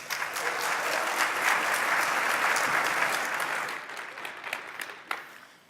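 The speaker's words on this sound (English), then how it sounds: "So let's go ahead and give them a round of applause." Conference audience at PyCon 2017 applauds steadily for two speakers, a dense wash of clapping that holds for several seconds and then thins into scattered claps.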